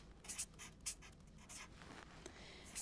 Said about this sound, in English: So let's first draw an actin filament.